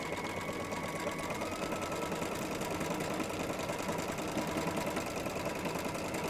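A Baby Lock sewing machine fitted with a Teflon foot stitches applique on leather or pleather, running at a steady fast whirring rhythm, close and continuous with no talking.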